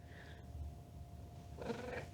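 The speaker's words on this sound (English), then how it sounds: "Oh, and now we're purring." A cat purrs softly at home, a low, faint, steady rumble heard alone.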